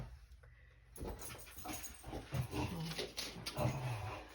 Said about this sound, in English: My dog's getting all excited back there thinking we're going to be doing something.